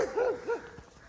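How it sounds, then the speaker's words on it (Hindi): A dog on Mushkpuri Top, a mountain in Pakistan, lets out two short whining barks, close and fairly loud, with no talk around them. "कुत्ता भौंक रहा है"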